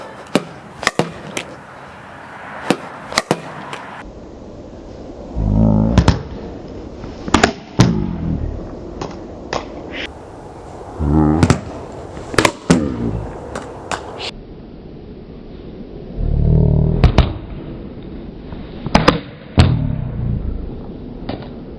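Sharp paddle-on-ball pops from backhand wrist flick shots, struck one at a time in an irregular rhythm with low thuds between hits, fairly close and loud, no talking.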